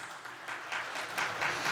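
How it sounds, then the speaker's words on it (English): Brief audience applause for award achievers at a hotel ballroom ceremony in Baku, a soft wash of clapping that grows slightly louder over under two seconds. "Let's give a huge round of applause to all the achievers."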